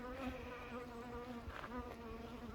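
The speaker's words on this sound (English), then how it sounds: "Yeah, they're bees" Honeybees buzz steadily at a hive during a hot, dry August, a quiet and continuous droning hum that rises slightly as individual bees pass close.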